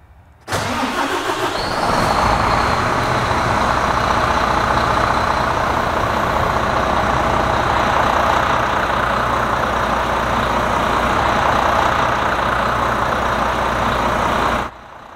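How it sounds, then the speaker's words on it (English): A truck engine cranks briefly, catches and settles into a loud, steady idle that runs for about thirteen seconds before cutting off, with no talking over it. "let's try to crank the engine"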